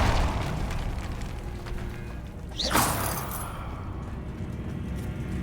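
A Confringo spell explosion from Hogwarts Legacy, a single whooshing blast that rises and bursts once, moderately loud over a continuous low game ambience.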